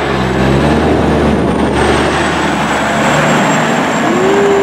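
A truck loaded with wood rumbles past on a road, a loud, steady engine roar and broadband road noise with a faint high whine, staying close and constant throughout, no talk.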